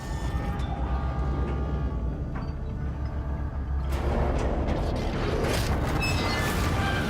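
Grinding, creaking video game elevator machinery failing in Rogue Trader, a steady low mechanical rumble that swells into louder rattling, clanking and crunching noises toward the end.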